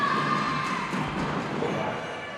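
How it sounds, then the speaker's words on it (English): A wrestling crowd at a live pro show cheers and roars steadily, a dense wash of voices holding loud for about two seconds before easing slightly, with no clear commentary over it. "you can hear from this crowd, they're willing on Dominick Denaro"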